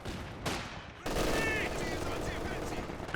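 Grenades go off amid infantry combat around a manor in the Company of Heroes 2 strategy game. A dense rattle of gunfire abruptly swells into a loud, sustained blast-filled roar.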